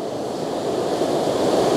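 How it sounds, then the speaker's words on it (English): Steady rushing water roars continuously, a broad full wash of sound with no voices, from a waterfall on the Elidir Trail heard from nearby. "So we made it to the last waterfall on the trail"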